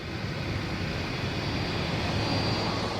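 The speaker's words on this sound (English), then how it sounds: "Air France's Paris-bound Concorde departure is already negotiating the web of complex taxiways" An Air France Concorde jet taxis along the taxiways at Kennedy airport, making a steady, loud, broadband engine roar with a faint high whine held throughout.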